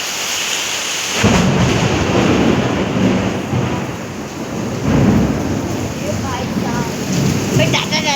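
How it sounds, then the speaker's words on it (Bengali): Heavy rain pours in a loud, dense roar, swelling and easing in waves, with deep thunder rumbling underneath after a brief quieter opening. "দেখেছো দেখেছো কতটা বৃষ্টি হচ্ছে।"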